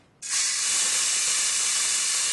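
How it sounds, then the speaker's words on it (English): Curry paste hits a hot pan with a sudden loud sizzle that jumps in at once and holds as a steady, bright hiss close by. "so I can cook off my curry paste"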